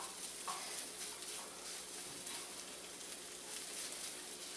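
Refried beans and ground beef being stirred together in a pan for nachos, a steady soft scraping and sizzling texture throughout, fairly quiet with no talking.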